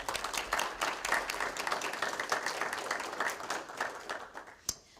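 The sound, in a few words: audience applause for guest speakers at a graduation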